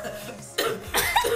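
Two or three short, sharp coughs in close succession from a nearby person, loud against a quiet indoor background.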